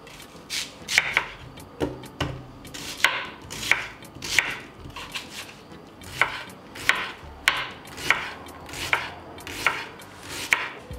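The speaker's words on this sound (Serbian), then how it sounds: "za to vreme ću iseckati 4 veće glavice crnog luka" A knife chops four large onions on a cutting board, each stroke a sharp close thud in a steady, slightly uneven rhythm, with no voices.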